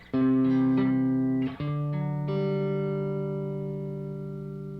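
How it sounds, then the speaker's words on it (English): Sustained electric guitar chords ring out through a Jam Delay Llama Extreme tape delay pedal, a short slapback echo thickening each strum with slight warbles, a few chord changes, no voices. "even though it's a really short slapback delay, you can still hear"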